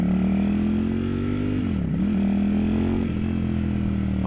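Ducati Streetfighter V4 S motorcycle engine under way, a loud steady drone with a brief dip in pitch near the middle as the throttle eases, then picking back up and holding.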